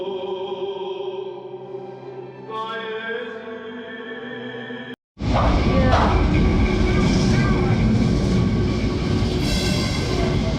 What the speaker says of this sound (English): Tram 28 on its way down to Alfama.